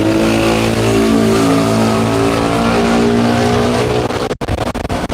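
Motor vehicles stream past on a busy street in Patong, Phuket, a loud steady engine rumble holding for about four seconds before a sharp break into choppier traffic noise; no one talks.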